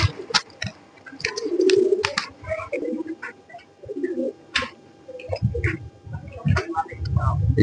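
Working pigeons in a loft give repeated low, throaty coos, joined by scattered chirps and wing or perch noises close by, with faint indistinct voices in the background.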